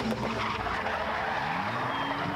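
A modified car holds a skidding turn, its tires squealing loudly and steadily over the roaring engine the whole time, close and with no speech.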